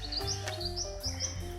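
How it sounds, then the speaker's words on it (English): A small ground-foraging bird chirps in grassland at Mill Creek, giving a few short, bright, high chirps in quick succession over faint steady background noise. "Cheeky little bird."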